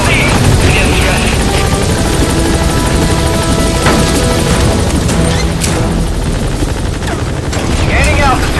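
A helicopter in Metal Gear Solid V holds at a landing zone, its rotor roar loud and constant throughout, with intermittent clatter of gunfire and impacts mixed in.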